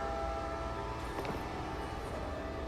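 A train rumbles steadily in the background at moderate distance, a continuous low roar with tonal hum and a brief louder swell partway through, no voices.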